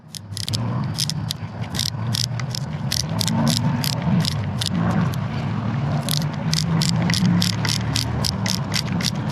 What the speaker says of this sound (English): putting the top screw back on in